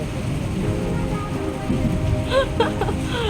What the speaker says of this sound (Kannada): ಅಣ್ಣ ಮಳೆ ಬಿಟ್ಟ ಮೇಲೆ ಹೋಗೋಣ